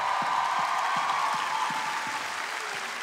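Applause from a comedy show audience of people under 35: dense, sustained clapping fills the room at a moderate distance, with a faint repeating low thump underneath as it fades slightly toward the end.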